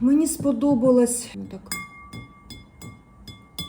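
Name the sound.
glass sugar bowl ringing when tapped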